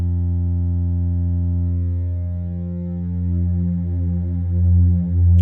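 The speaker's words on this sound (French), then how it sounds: "Les 6 voix sont maintenant légèrement désaccordées, les unes par rapport aux autres. On entend des effets de phase qui créent un peu de mouvement." A 4ms Spherical Wavetable Navigator (SWN) wavetable synthesizer drones with six slightly detuned voices, a steady loud tone whose upper harmonics slowly swirl and beat with phasing movement, heard alone.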